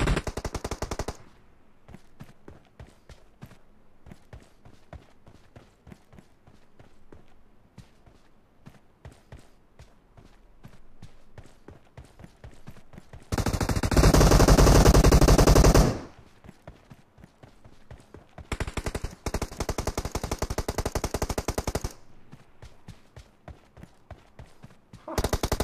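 Gunfire from the PUBG Mobile game, with scattered shot transients through the clip and two dense, loud bursts of sustained fire near the middle and later on, set against a quieter background.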